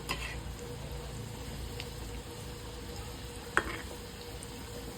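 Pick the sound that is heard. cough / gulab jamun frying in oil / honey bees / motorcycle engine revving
gulab jamun frying in oil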